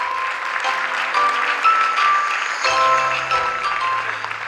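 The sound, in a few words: audience applause at inauguration event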